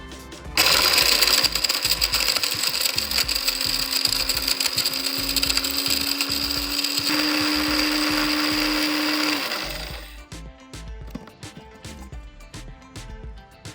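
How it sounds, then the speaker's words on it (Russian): A small electric coffee grinder grinding spices for tea whirs loudly and steadily for about nine seconds, pitch shifting slightly, then cuts off leaving faint rattling and clicks. "Теперь отправляем все в кофемолку и перемалываем."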